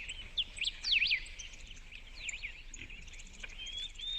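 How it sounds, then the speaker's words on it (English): Several birds sing and chirp in the Himalayan mountains around a remote bungalow, bright warbling phrases repeating close by over a quiet background, with no voices. "This is what it had sounded like up in the mountains, in our little bungalow in the middle of nowhere, waking up to the sound of bird song"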